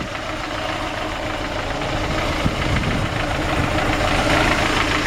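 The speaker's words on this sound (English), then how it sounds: "Nice, healthy little engine." A 1965 Ford F100 lowrider pickup's small engine idles steadily at close range, a continuous even rumble with faint knocking texture and no voices.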